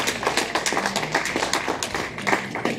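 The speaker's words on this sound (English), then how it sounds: "That deserves an applause." Brisk clapping from an audience at a talk, a short burst of overlapping hand claps at moderate loudness.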